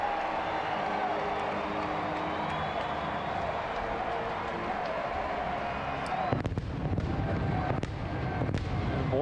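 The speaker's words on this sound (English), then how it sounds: "More fireworks here in Cincinnati." Fireworks go off at a Cincinnati ballpark after a Reds home run against the Cubs, a dense rumbling crowd roar giving way to sharp, loud bangs and crackles in the last few seconds.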